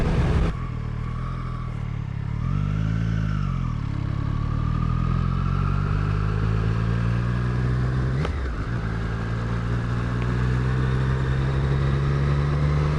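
A 2020 Triumph Street Triple 765 RS motorcycle ridden in fourth gear at low speed, its engine a steady smooth drone with a slight rise and fall in pitch, wind noise throughout and no talking.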